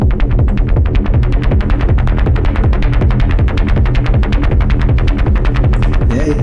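A Pulse Grinder patch in the Vital synth plays a fast, loud, rhythmic throbbing pulse, with evenly spaced gritty hits repeating steadily and nothing else heard.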